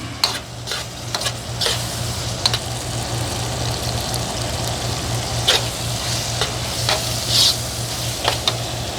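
Flour is stirred into a sizzling pan for Army-style SOS. A constant, close frying hiss runs throughout, with repeated spatula scrapes and taps against the pan over a low electrical hum.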